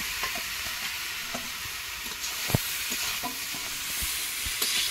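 Potatoes go into a pan of hot frying spices, giving a steady close sizzle broken by scattered scrapes and taps of a spatula stirring against the pan.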